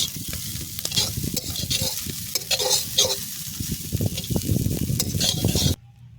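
Flattened rice frying in oil and being stirred in a pan, dense crackling sizzle with continuous rough scraping strokes, loud and close, ending abruptly.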